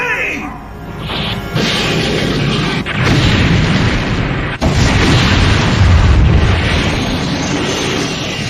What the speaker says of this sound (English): Kakazaki, fire a missile at the bulkhead!